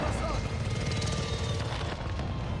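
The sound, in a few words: support helicopter arriving in the video game Call of Duty Warzone 2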